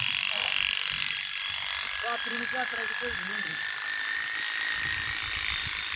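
An electric sheep shearing machine at work on a flock of sheep gives off a steady, close, high-pitched motorized buzz for the whole stretch, with voices talking over it.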